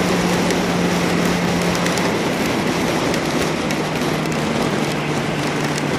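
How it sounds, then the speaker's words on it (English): Rain drumming on a car as it drives along a road near Airdrie, a steady dense hiss and patter mixed with road and engine noise, continuous and fairly loud throughout. "And you can tell we're just getting into the rain."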